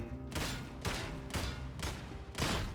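Rapid gunfire as a full magazine is emptied in Warhammer 40K: Darktide, five loud, evenly spaced bursts of shots in quick succession, dense and close.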